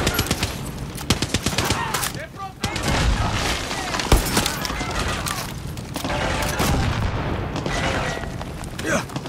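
Heavy gunfire and booming tank blasts in the Far Cry 6 video game, dense and continuous with bursts and explosions, while a voice shouts over the combat.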